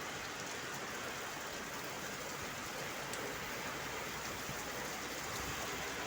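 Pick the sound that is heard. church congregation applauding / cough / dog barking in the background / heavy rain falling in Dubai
heavy rain falling in Dubai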